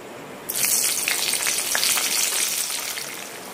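Spices tempered in hot oil for an Odia curry burst into a loud sudden sizzle that holds steady and crackling, then eases slightly toward the end, alone without talk.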